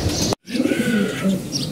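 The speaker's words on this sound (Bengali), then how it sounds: "যে কবুতর দেখতে পাচ্ছেন সবগুলো নর কবুতর" Male pigeons coo nearby in a series of soft, low, throaty calls, with a brief dropout of all sound early on.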